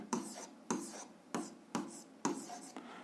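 Pen or chalk writing out a physics calculation, five quick scratchy strokes in a regular rhythm, close and faint, with no voice over them.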